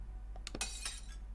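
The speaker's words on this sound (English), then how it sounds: "The old man drops his teacup on the floor. It shatters, splashing more potion onto the floor and under the desk." A teacup dropped onto a floor shatters in one brief, bright crash of breaking china with a short tinkling tail, over a low steady hum.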